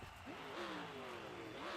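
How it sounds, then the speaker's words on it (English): Alfredo Moya's freestyle vehicle Dragon at a Salinas, California show revs its engine in rising and falling sweeps, loud and close, with faint crowd noise behind. "Engine revving."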